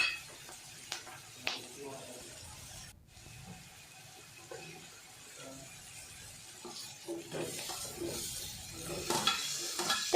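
Catfish curry with turmeric and salt frying in a pan is stirred. Steady sizzling runs under repeated scraping strokes, close by and growing louder toward the end, with a voice faintly present at times.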